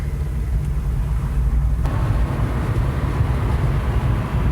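A car rolls along on a test drive, a steady low road and engine rumble with wind noise heard from inside the cabin, continuous and fairly loud with no talk.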